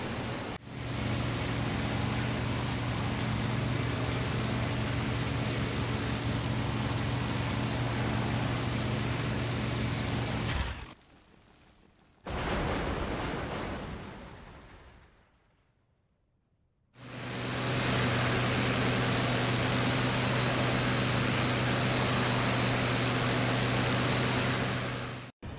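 A damaged MC.202 fighter's engine drones in IL-2 flight simulation, a loud steady propeller hum that cuts out briefly, returns rough, drops to near silence, then resumes at full strength.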